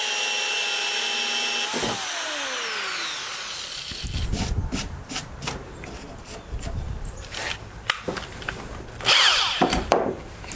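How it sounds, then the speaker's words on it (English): A power drill fitted with a center bit bores through wood, first whining as it spins up, then chewing into the board with a rough grinding that surges and bites in uneven bursts, close and fairly loud. "So we'll just take this center bit and line it up with the hole"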